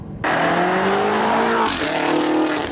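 A BMW X6M with a Manhart exhaust system, over 700 horsepower, accelerating hard with a loud, continuous engine roar that climbs in pitch, drops briefly at a gear change, then climbs again.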